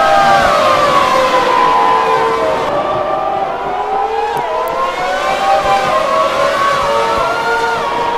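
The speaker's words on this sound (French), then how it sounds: "on entend résonner des bruits de V12 et de V10 absolument magnifiques partout autour de nous" Historic V12 and V10 racing cars at the Paul Ricard circuit during the historic French Grand Prix fill the air with a loud, continuous engine wail whose pitch rises and falls as the cars rev and pass.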